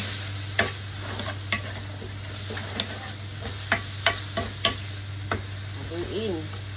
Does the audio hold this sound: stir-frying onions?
yes